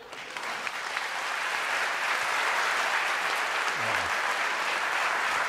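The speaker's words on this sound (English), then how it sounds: "Give them a hand." A town hall audience applauding for Peace Corps volunteers, steady dense clapping from a crowded room that holds at an even level for several seconds.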